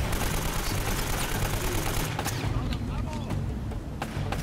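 AK rifle gunfire in the video game Uncharted, dense bursts of shots and booms, loud and continuous with a voice talking over parts of it.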